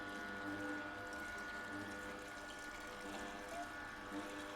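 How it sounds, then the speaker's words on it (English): Water poured into a running Kuvings cold press juicer, a steady trickling and churning wash under the machine's low hum, continuous and fairly quiet. "While the machine is still running, I'm just going to pour water into the machine."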